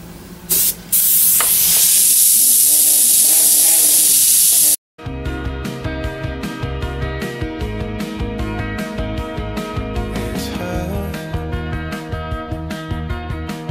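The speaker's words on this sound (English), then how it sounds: "I'm going to spray mostly on the stencil, like half on the stencil and half off of it." A steady hissing airbrush spraying paint onto a graffiti name stencil for several seconds, close and loud, then it stops abruptly and music continues.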